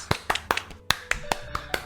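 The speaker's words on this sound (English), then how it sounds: "round of applause for all of us" A handful of scattered handclaps from a small group closing out a tabletop game session, about eight sharp close claps spread unevenly over a couple of seconds rather than a dense ovation.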